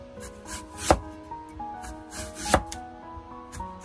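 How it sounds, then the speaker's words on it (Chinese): A knife slices washed apples, skin on, into thick pieces. Two crisp, distinct cuts land on a board, close up over a quiet background with faint tonal music. "接着再把洗干净的苹果切成厚厚的薄片子"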